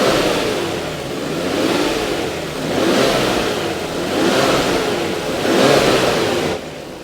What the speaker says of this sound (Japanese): ちょっと軽く吹かしますけど